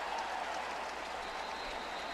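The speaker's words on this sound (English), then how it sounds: "that'll get a nice round of applause after a run of 26 yards" Stadium crowd applauding after a 26-yard run at the 2014 Alabama Crimson Tide A-Day spring football game, a steady wash of distant clapping and crowd noise filling the whole moment.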